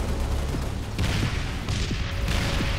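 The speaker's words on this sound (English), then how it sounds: "the Plasma Launcher, a heavy shoulder weapon which tracks and fires bursts of plasma at all manners of targets, detonating with explosive results" Plasma Launcher bursts exploding in Halo: Reach, a dense flurry of sharp blasts and booming detonations layered over a rumbling background, loud and close.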